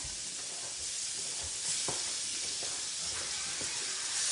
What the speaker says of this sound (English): I'm just gonna transfer these onions in, but without transferring the mushrooms